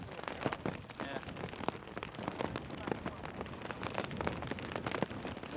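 Heavy rain pours down on a beach during a storm, a dense steady hiss of drops hitting the surface with scattered sharper splats throughout, no voices.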